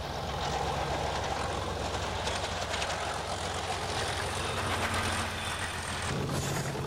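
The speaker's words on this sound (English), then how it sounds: "With her distinctive sound and rather dated nose, the 37 is typically English Electric" An English Electric Class 37 diesel locomotive runs with a steady, loud engine drone throughout, heard alone with no talk.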